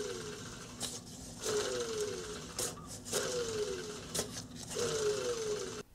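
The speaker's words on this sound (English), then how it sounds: "I'll just give it a little spin here so you can listen to it." A Honda Accord condenser cooling fan motor, its paint flaking, is spun by hand several times, each spin giving a fading mechanical whir with light ratcheting clicks, close and alone.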